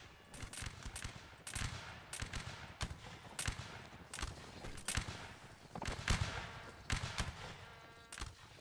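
Musket fire crackles across a Napoleonic Wars line battle, with sharp shots going off in irregular, scattered bursts, some nearer and louder, others softer and more distant.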